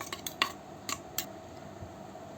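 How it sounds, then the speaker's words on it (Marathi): Spoon clinking against a bowl while mixing honey, curd, sugar and ghee into milk for panchamrit prasad, a few sharp, scattered metallic taps over a quiet background. "त्यामध्ये मध त्यामध्ये दही साखर त्यामध्ये थोडंसं तूप टाकूया आणि मिक्स करून घेऊया"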